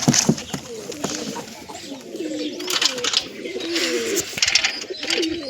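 Pigeons coo repeatedly in low, rolling calls while their chicks are handled close by, the soft warbling phrases overlapping with faint rustling and a few chirps.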